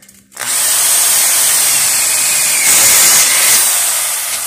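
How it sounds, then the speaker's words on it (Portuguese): A power drill bores a hole, starting abruptly after a brief quiet moment and then whirring continuously and loudly, with the pitch rising slightly partway through as the bit works. "Fiz o furo, vou virar e vou furar o outro lado"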